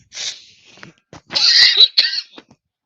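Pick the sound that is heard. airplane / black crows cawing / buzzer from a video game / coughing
coughing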